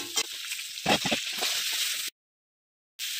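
Drumsticks (sajne data) dropped into hot oil with fried vegetables for shukto, giving a bright crackling sizzle with a few bursts, cut by a short silence before the frying resumes.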